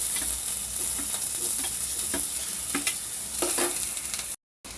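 Onions sizzle steadily in hot oil with cumin in a pan for brinjal curry, a dense continuous frying hiss broken by sharp scraping stirs, close and loud, ending in a brief cut to silence.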